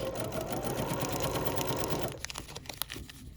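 Sewing machine stitching quilt block pieces together: a fast, close, buzzing run of stitches lasting about two seconds, then stopping, leaving light handling clicks.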